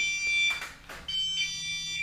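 An Arduino-programmed electronic alarm on a live animal trap sounds in steady high-pitched tones, fairly close, with a brief louder burst partway through and no talking.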